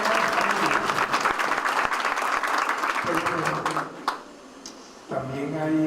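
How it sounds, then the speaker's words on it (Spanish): An audience at a graduation ceremony for the national prosecutors' school bursts into dense applause for several seconds, which fades out before a speaker's voice returns. "Eso también merece un aplauso."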